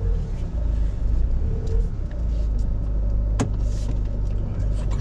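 A Fiat Ulysse car drives with its engine running, giving a steady low rumble and road noise throughout, with a brief sharp click partway through.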